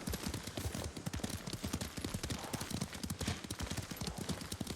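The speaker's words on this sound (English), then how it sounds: "Lord Sakai taught me to ride a horse." Rapid, rhythmic hoofbeats of a galloping horse in the video game Ghost of Tsushima pound steadily and close, with no talking over them.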